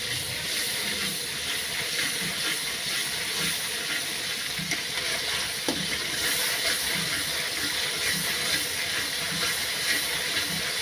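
Spice paste fries in hot oil for a quick pangas fish curry, giving a steady, continuous sizzle and hiss that runs unbroken at an even level throughout.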